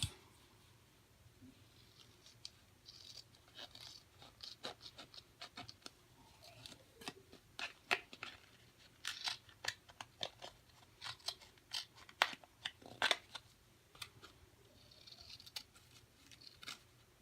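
Scissors snip through lace on a junk trunk craft project, a quiet series of short, crisp cuts in an irregular rhythm, growing busier toward the middle and end.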